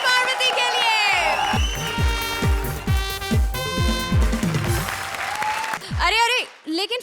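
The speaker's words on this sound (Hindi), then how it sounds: "जोरदार तालियां कपिल और पार्वती के लिए" A comedy show studio audience breaks into loud, sustained applause, joined by punchy drum hits and a bright musical sting, while a voice speaks over the noise near the end.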